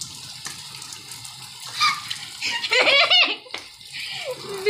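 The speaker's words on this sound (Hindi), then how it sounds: "इधर देखो कितना पानी गिर रहा है" Heavy rain pours down during a storm in Pakistan, a dense, steady rushing hiss of falling water close by, with brief voices and laughter rising over it midway.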